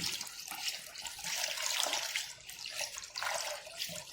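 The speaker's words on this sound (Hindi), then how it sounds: "अब मैंने इसमें डालना है काफी अच्छे से पानी" Water poured into whisked gram flour and yogurt batter for kadhi, a steady splashing, gurgling stream close by that swells and eases over several seconds with no talk.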